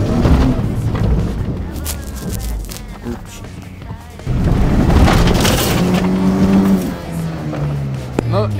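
A Renault Twingo drives in third gear, its engine droning steadily with bumps and rumbles under continuous conversation inside the car.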